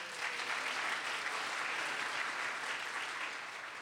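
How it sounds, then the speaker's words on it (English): Audience applause fills a college hall at an evening author talk, a steady dense clapping from a large crowd that carries on evenly for several seconds without any speech over it. "Beth Patel, let's give her a big round of applause."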